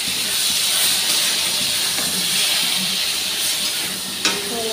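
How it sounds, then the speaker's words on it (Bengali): Prawns fry in a hot pan with a steady, loud sizzle and hiss throughout, a brief clink near the end. "এখন চিংড়িটা হালকা করে ভেজে নিচ্ছে।"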